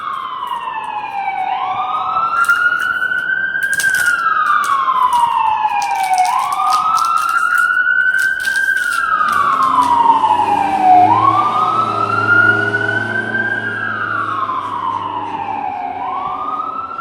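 An emergency vehicle siren wails in a repeating rising-and-falling sweep, loud and sustained, with a low vehicle rumble joining partway through as it passes on a busy shopping day.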